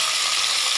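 Tomatoes with green chillies sautéing in a pan after curry leaves and golden onions for sambar rice give a short, bright, continuous sizzle, close and fairly loud.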